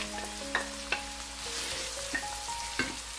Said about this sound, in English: Now we're going to put our onion.